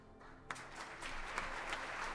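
Audience applause at a 2021 National Philanthropy Day event honoring the Philanthropists of the Year, starting abruptly after a brief quiet moment and continuing as a steady, moderately distant wash of many hands clapping.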